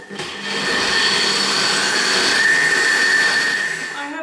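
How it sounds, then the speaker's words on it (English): A blender runs continuously, blending frozen raspberries with protein pancake ingredients such as chocolate into batter, giving a steady, loud whirring motor roar close to the microphone throughout, with a rising whine partway through. "now I'm going to blend all of these ingredients together"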